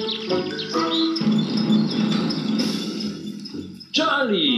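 A bird in a children's cartoon chirps in quick bright tweets, mixed with voices talking and lively cartoon sound effects in a forest scene, the calls returning clearly near the end.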